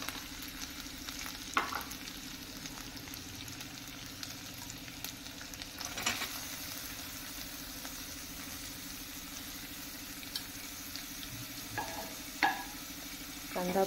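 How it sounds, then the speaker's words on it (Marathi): Onions sautéing in oil for a Marathi puri bhaji potato curry give a steady low sizzle with occasional spatula scrapes and clinks, close and fairly quiet, with no talking. "कांदा आपण तेलावर व्यवस्थित परतून घेऊया"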